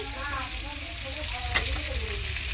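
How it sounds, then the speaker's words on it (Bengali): Shrimp frying with turmeric in a pan makes a steady, close-up sizzle and crackle, with one sharp click or pop partway through. The hiss stays even and unbroken from start to finish. "চিংড়ি মাছটাকে ভেজে নেব।"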